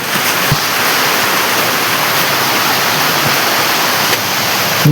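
Heavy monsoon rain pours down steadily in a rural village in the rainy season, a loud, dense, continuous hiss with no voices.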